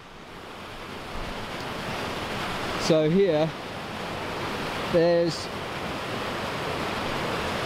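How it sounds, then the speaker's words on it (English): Waterfall in the Peak District, heard as a steady, broad rush of falling water that runs through the whole stretch, with someone speaking briefly over it twice. "there's the waterfall there"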